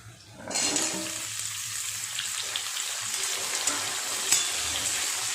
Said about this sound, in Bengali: আলু আর পেঁয়াজ আর একটু ভালো করে নেড়ে চেড়ে ভেজে নেব